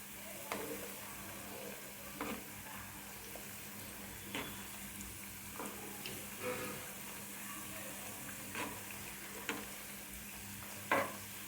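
Cauliflower 65 pieces fry in hot oil in a pan with a soft, continuous sizzle, broken by occasional clinks and scrapes of a spoon turning the pieces; quiet and close, with no talking.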